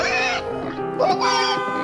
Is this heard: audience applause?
no